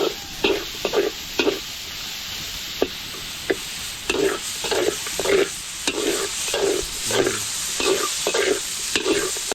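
Garlic and onion sautéing in a pan, a close continuous sizzle punctuated by a rhythmic series of spatula scrapes and clacks against the metal, with no talking.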